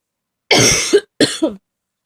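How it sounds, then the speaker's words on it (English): A short coughing fit close by: a harsh burst, a brief pause, then a second shorter cough. "Sorry, I just had a coughing fit there."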